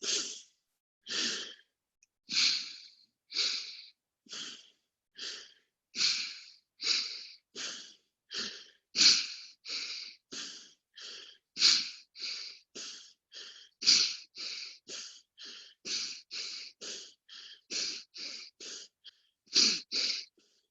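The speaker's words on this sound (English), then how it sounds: "We start with the thumb on our nose and we inhale. Switch, exhale." Rhythmic alternate-nostril pranayama breathing during a freediving breathwork session: a long regular series of close, airy nasal inhales and exhales, each breath a separate whoosh with brief pauses between, no talking.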